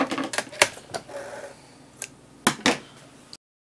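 Fabric being cut with scissors while making a drawstring bag: a handful of crisp, close snips and short crunchy cuts, unevenly spaced, with brief quiet gaps and no talking.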